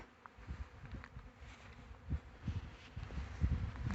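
A hive swarm of bees buzzes in a steady low drone with irregular swells as insects pass close, moderately loud, with no voices present.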